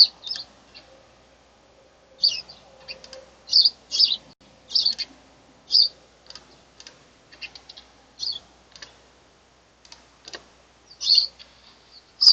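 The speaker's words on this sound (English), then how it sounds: "You guys hear my birds?" Pet birds chirp in quick, irregular bursts of high tweets, close by in a quiet room, with faint tapping in between.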